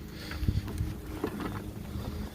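A Makita 18V X2 (36V) LXT 21-inch self-propelled cordless lawn mower runs at its full 2800 RPM setting, a steady, breathy low whirr with a windy rush, heard close and without talk.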